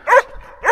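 A dog named Lola gives two short, sharp barks close by, separated by a brief quiet pause.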